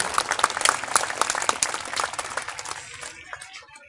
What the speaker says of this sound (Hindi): हम सभी लोग और बच्चे खुद अपने लिए एक बार जोरदार ताली बजा करके अपना उत्साहवर्धन करें